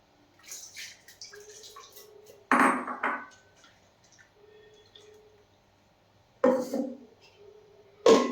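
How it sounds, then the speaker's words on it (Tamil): Water poured into a wheat rava and dal adai batter, heard as three short splashy bursts spaced a few seconds apart. Fainter kitchen clatter fills the gaps and nobody speaks. "தண்ணி சும்மா கொஞ்சம் மட்டும் ஊற்றிக்கிடுவோம்."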